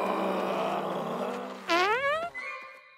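A sharp, exaggerated cartoon sneeze bursts out with a rising, wavering vocal pitch, loud and close, following a low grumbling voice, in an animated zombie Halloween episode.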